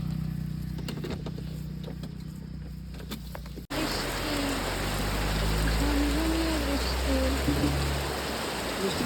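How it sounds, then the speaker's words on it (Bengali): Steady rain falling outdoors at a roadside tea stall, a dense continuous wash of drops that grows fuller partway through. "এদিকে বৃষ্টি পড়ছে।"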